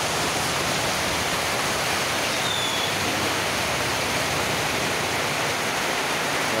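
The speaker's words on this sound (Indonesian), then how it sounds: "Kebetulan cuacanya hujan gede sekali nih" Heavy rain pours down in a steady, dense hiss that fills the whole clip, loud and close, with no talking over it.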